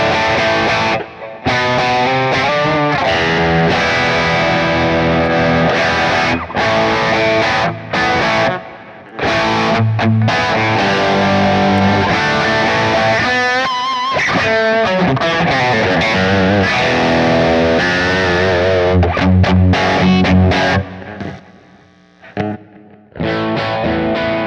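A heavily distorted electric guitar runs through a Kemper and Axe FX III with a gain pedal, playing loud saturated chords and riffs continuously, with a few brief pauses and a quieter tail near the end.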